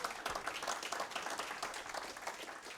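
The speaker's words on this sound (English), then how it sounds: "Another round of applause for the" A crowd applauds steadily at a gathering with the Oklahoma Lieutenant Governor, many hands clapping in a dense, continuous patter at moderate distance with no voices over it.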